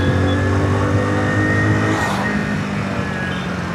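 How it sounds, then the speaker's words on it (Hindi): A Hero HF Deluxe Flex Fuel motorcycle with an E85-compatible engine revs hard in third gear, a loud, steady, close engine drone that eases slightly partway through, with no talking. "थोड़ा सा इसको हाई रेप करके देखता हूँ वाइब्रेशन आता है कि नहीं"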